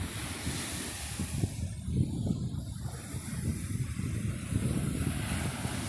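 Steady ocean surf rolling in at a beach resort, a continuous low wash of waves with wind buffeting the microphone throughout.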